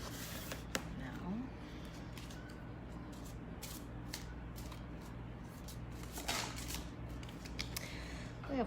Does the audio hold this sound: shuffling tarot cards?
yes